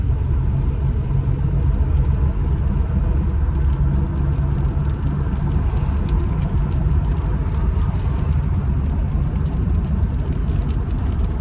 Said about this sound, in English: It's telling me that you got a cylinder misfire.